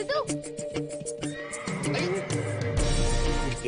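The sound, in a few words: horse neighing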